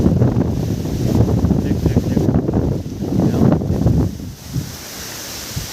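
Strong wind sweeps across a farm field high above the ground, buffeting the microphone in rough, gusting rumbles that ease toward the end, with a voice faintly under it.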